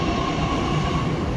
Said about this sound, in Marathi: मेट्रो आमची आलेली आहे, सेकंड मेट्रोसुद्धा